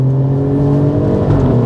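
A 2024 Alfa Romeo Stelvio Quadrifoglio with a Ferrari-derived 2.9-litre twin-turbo V6 accelerates hard on a straightaway of a tight track, its loud engine note climbing steadily from inside the car, with no voices.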